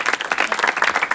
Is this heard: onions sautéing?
no